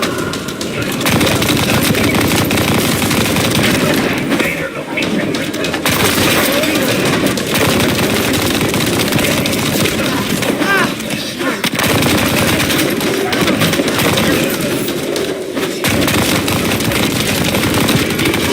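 Sustained, loud machine-gun crossfire in The First Descendant video game, with rapid automatic bursts rattling almost without pause, a few short lulls, and faint voices underneath.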